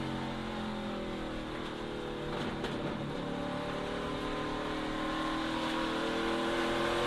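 A NASCAR Craftsman Truck Series race truck engine revs steadily and loud under gentle, measured throttle, with a dense continuous roar and smooth rises in pitch, joined by the hum of other trucks in traffic nearby.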